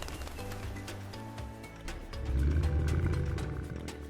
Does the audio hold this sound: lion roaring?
yes